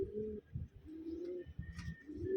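Soft, throaty pigeon coos repeat in a steady rolling rhythm, close by, with a faint higher chirp near the end.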